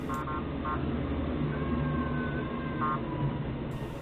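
A forklift's short electronic warning siren chirps in brief bursts, then a longer rising wail, over a steady low engine rumble nearby at a work site.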